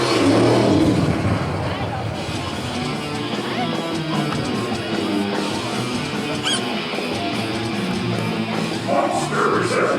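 At an Outlaws of Motorsports show, a monster truck engine revs and roars in a loud, continuous blare, mostly buried under an announcer's amplified voice.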